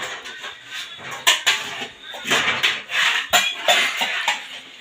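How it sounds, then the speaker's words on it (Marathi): Kitchen pots, pans and utensils clatter and clank as they are handed over and stacked, with a run of sharp metallic knocks and scrapes at close range, several louder bangs standing out. "बाय भांडी आणि मांडायला चला"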